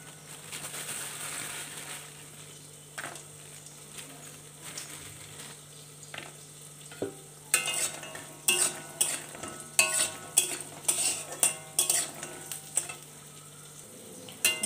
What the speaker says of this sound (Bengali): তেলটা গরম হলে এখন আমি কয়েকটা বড়ি ভেজে নেব।